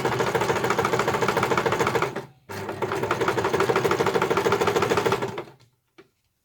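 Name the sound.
sewing machine stitching a piped cushion cover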